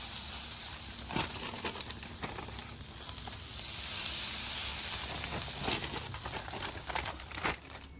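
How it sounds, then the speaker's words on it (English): Onions hitting hash browns on a Halo griddle greased with leftover bacon fat, giving a steady broadband sizzle and hiss with occasional crackles, close and fairly loud throughout. "So throw some onions down on my hash browns. I've just used that leftover bacon grease right there on the griddle."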